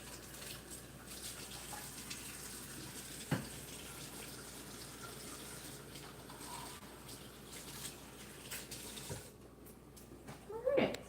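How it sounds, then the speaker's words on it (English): Hands being washed under a running kitchen tap during cooking, a steady soft hiss of flowing water with faint splashes, fairly quiet and continuous before tapering off near the end. "Give me a second to wash my hands off."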